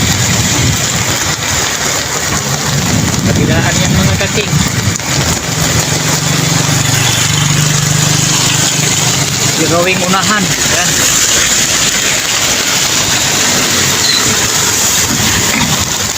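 A vehicle engine rumbles steadily beneath a constant wash of road and wind noise as the vehicle moves through flooded streets after heavy rain, with someone talking over it in bursts.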